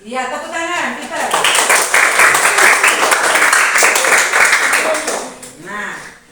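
Students in a classroom burst into applause for a classmate, a burst of mixed hand clapping that swells and holds for several seconds, with a voice speaking briefly before and after.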